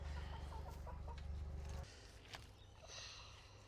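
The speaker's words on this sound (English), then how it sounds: "The chickens are very curious what you're doing, Livy." Soft, faint clucking of chickens in a garden over low rumbling background noise, a few short calls scattered through the clip.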